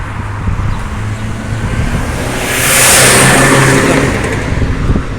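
A city bus in Kuwait approaches a stop amid road traffic, its engine swelling louder as it draws near and then holding a steady drone, with a broadband roadway rumble throughout and no speech.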